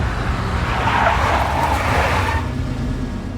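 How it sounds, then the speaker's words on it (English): A big black Mercedes drives hard and skids in the Max Payne video game, with a loud engine roar and a rising tire squeal that swells and then fades, and no talk. "A big black Mercedes."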